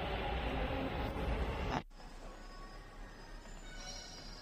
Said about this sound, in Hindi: फाइनली जेपी नगर मेट्रो स्टेशन में आ चुका हूँ।